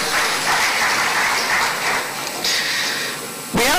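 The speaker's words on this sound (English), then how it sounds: "Honorable Ikenna Eleziana, let's give him a big round of applause." Audience applause at a formal inauguration ceremony for an education fund committee, a dense, steady clatter of clapping hands filling the room for several seconds before a sharp louder burst at the end.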